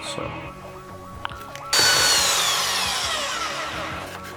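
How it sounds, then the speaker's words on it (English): A power drill spins up sharply and bores a hole through wood, a loud whining grind with a slowly falling pitch, preceded by quieter clicks and handling noises. "I'm just going to drill a hole right the way through"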